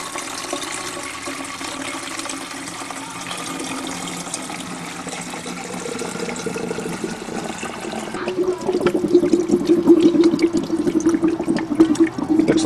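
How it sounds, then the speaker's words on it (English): Water poured into a large 118-plate hydrogen generator cell, a steady close rushing stream that grows louder and gurgles more in the last few seconds, with no talk. "put some water in here and do a leak check"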